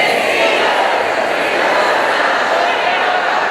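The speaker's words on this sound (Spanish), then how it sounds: "Ese aplauso maravilloso para el Señor." Church congregation applauding, a loud, dense and sustained wash of clapping mixed with crowd voices, steady throughout.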